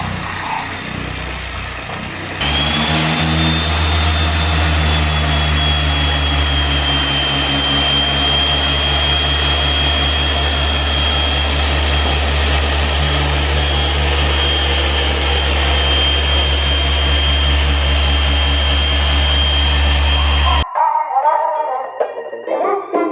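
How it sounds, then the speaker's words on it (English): A car polisher spreading polish on Golf R paint hums steadily and loudly at low speed after a brief quieter start, with a constant high whine, then cuts off abruptly near the end. "Start low speed, spread it around, and then we're gonna speed up and go to probably about 4 to 5 for polishing."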